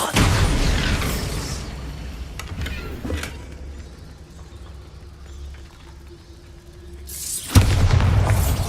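A Bombarda spell explosion in Hogwarts Legacy sounds as a loud blast with crackling debris, fading into a low rumble. A second heavy boom hits near the end.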